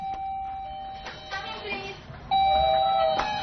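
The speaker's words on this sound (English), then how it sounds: "nowadays, they have doorbells" An electronic doorbell chimes, a ringing tone that sounds twice with a short pause between, over faint indoor background noise.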